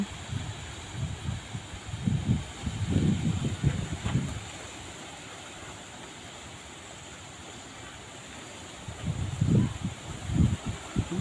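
Strong wind gusts roar in a rainstorm at dusk, buffeting the microphone in loud rumbling bursts that ease into a steady hiss of rain before the gusts return near the end.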